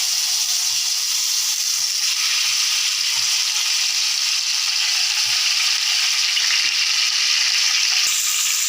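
Chicken pieces for shish tawook frying on a hot oiled tray over the stove, a steady loud broadband sizzle that continues throughout with occasional soft taps and pops.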